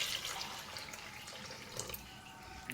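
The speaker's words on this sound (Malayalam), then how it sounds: "ഈ പാകത്തിന് വെള്ളം." Water poured into a pot of chopped onions, three tomatoes, salt and turmeric for onion sambar, a steady close splashing rush with small drips, no voices.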